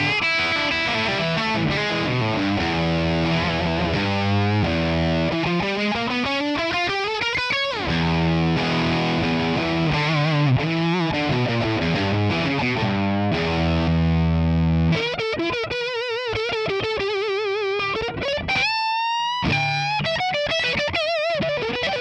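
An electric guitar runs dry through a Tonex ONE amp capture with no reverb. Dense, driven chords and sliding lead lines stay loud and continuous, and no one speaks.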